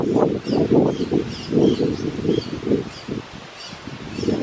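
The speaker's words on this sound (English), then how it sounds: "Wow, look at the wind. The wind is coming." Wind gusting through leafy trees outdoors in Bohol, a steady rushing rustle that swells and eases in waves, with faint bird chirps high above.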